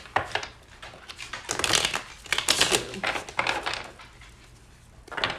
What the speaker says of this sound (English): I'm feeling like 1 or 2 more shuffles here.